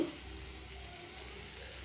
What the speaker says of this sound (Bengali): আমি ভালো করে এই সেদ্ধ মাছটাকে মশলার সাথে আরও কিছুক্ষণ ভেজে নেব